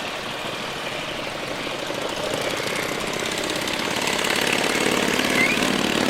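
A World War II BSA motorcycle engine runs steadily at a show, a loud continuous rough mechanical chatter that holds throughout and swells slightly louder toward the end, with no speech.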